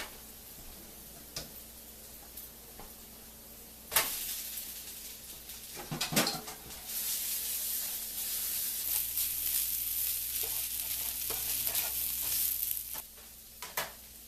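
Ramen noodles stir-fried with garlic and peppers in a hot pan, starting with scattered clinks of a utensil, then a loud sizzle that rises and holds steady before fading near the end.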